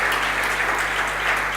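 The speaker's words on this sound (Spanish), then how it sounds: "denle un fuerte aplauso al Señor" Congregation applauding during a Spanish-language Sunday church service, a dense, steady wash of many hands clapping throughout with no pauses.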